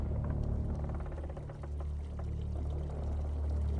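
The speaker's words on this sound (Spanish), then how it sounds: "el agua baja por el canal hasta el depósito" Water runs down a channel into a tank in a reconstructed Al-Jazari water-raising machine, a steady pouring rush over a low rumble, continuous and fairly close throughout.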